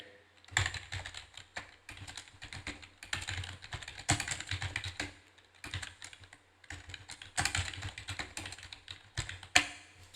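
Fingers type on a computer keyboard while entering text into an Excel spreadsheet, quick clusters of close key clicks in bursts separated by short pauses.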